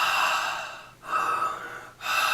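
Deep, slow breaths are drawn in and pushed out close to the microphone, each one a long airy rush followed by a brief pause, repeated in a steady rhythm with no talking.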